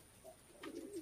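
A tournament flying pigeon gives a soft, low coo, faint and brief, against a quiet background.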